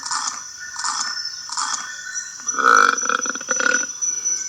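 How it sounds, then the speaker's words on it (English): Three rhythmic crunching bites, like chewing something crisp, give way to a loud, close, drawn-out burp in a sound effect sequence, with no talking. "We'll do the crunching and then the burp."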